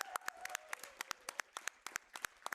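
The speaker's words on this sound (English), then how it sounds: "give them a round of applause too" An audience claps at a live gaming event, with sparse, distinct handclaps spaced irregularly, close and fairly quiet.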